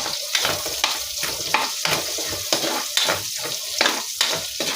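Onions sizzle loudly in a hot pan while cooking pancit cabagan, the steady frying hiss broken by regular stirring scrapes.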